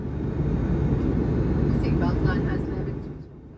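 Steady, loud cabin roar inside a 31-year-old QantasLink Fokker 100 jet airliner descending toward Geraldton, a continuous broadband rumble that fades slightly near the end, with a voice talking over it.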